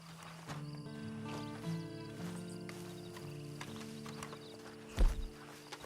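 Horse hooves clip-clop in the Red Dead Redemption Online video game, soft and intermittent beneath sustained musical tones, with one heavier thud near the end.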